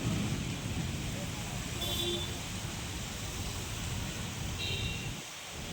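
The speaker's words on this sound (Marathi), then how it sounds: "दुपारनंतर वादळी वाऱ्यासह धुवाधार पाऊस बरसला। विजेच्या कडकडाटाने वातावरणात एकच थरार निर्माण झाला।" Heavy pre-monsoon rain pours steadily in Akola during a thunderstorm with strong winds, a dense, even wash of noise with a low rumble easing near the end.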